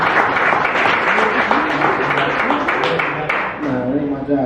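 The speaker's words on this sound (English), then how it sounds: "can we give a round of applause to Perry and Austin?" A live podcast audience applauds guests Austin Pasztor and Perry Jones, with steady dense clapping throughout and a voice talking over it that grows clearer near the end.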